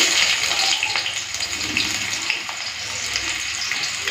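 Sliced onions frying in hot oil, a loud, dense steady sizzle close by with a watery crackling hiss throughout.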